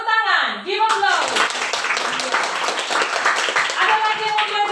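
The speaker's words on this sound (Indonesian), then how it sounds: "Tepuk tangan. Give applause." Classroom applause from students clapping hands together, a dense run of claps after a teacher's prompt, with voices talking at the start and the teacher speaking over it.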